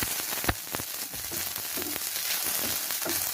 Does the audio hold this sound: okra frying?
yes